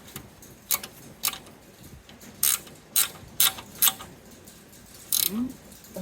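A ratchet wrench tightens bolts on a Honda Civic transmission mount from under the car, with several short bursts of rapid metallic clicking separated by brief pauses.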